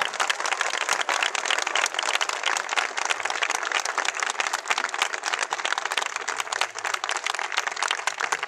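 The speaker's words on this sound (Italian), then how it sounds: "a Beppe Grillo e a Gian Roberto Casaleggio, a cui voglio fare un grande applauso" Applause from a crowd at a Five Star Movement (M5S) political rally in Naples, a dense, steady wash of clapping that holds loud and even for the whole stretch with no speech over it.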